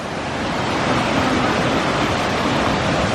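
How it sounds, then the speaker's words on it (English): A small waterfall, Chasm Lake Falls on a Rocky Mountain National Park trail, pours with a dense, steady rushing hiss that fills the air without a break and with no voices. "Nice little waterfall."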